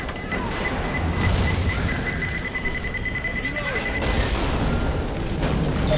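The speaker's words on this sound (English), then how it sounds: "Pipe bomb out!" A pipe bomb goes off in Left 4 Dead 2 at the Dead Center hotel, a dense rumbling boom amid constant game noise and chaos, with voices talking over the din throughout.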